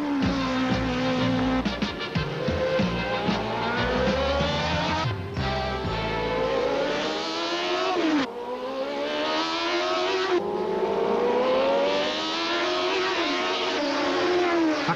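Formula 2 race cars on the Suzuka circuit during 1983 qualifying, engines screaming loudly at high revs with rising and falling pitch as they accelerate, shift and pass, continuous and close throughout.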